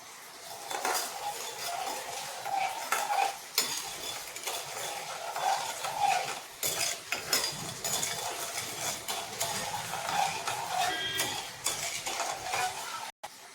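A metal spoon scrapes and clinks against a pot again and again, stirring boiling sugar syrup steadily over a soft bubbling simmer, with no talking.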